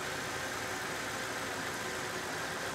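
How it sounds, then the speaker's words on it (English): A car engine with an opened EGR valve idles roughly, sagging in RPM and struggling, heard as a steady, fairly quiet continuous hum throughout. "There was a noticeable drop in the engine RPM, and it is struggling a little bit"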